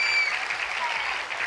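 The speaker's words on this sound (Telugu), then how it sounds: "బట్ కమాన్ గట్టిగా చప్పట్లు" A television game show studio audience claps in a brief, bright burst, filling the moment with close, dense applause under a faint electronic tone.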